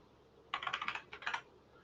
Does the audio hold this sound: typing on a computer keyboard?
yes